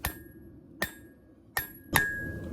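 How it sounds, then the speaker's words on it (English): A rounding hammer strikes hot steel being forged into a small hunting knife: four sharp, ringing metallic blows spaced unevenly about a second apart, each with a short bright ring, in a quiet workshop. "I'm using a rounding hammer with some hard and not very precise blows"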